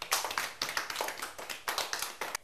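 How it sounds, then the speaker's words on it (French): A studio audience at a televised quiz show claps in a quick, steady rhythm, the group's hands hitting together in regular bursts that stay moderately loud and close, with no voices over them. "Applaudissez pour elle."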